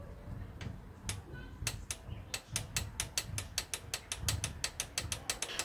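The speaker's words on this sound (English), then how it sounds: "When you hear the click from the torque wrench," A torque wrench clicks repeatedly while tightening a camshaft cap on an Opel Astra H, producing a rapid series of sharp, close ratcheting clicks with no speech.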